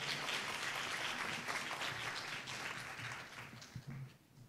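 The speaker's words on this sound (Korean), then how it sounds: "다시 한번 큰 박수 부탁드리겠습니다." Audience applause at an international labour symposium hall, a dense steady wash of clapping that holds for several seconds before thinning and fading out at the end.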